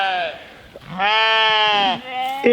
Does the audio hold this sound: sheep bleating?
yes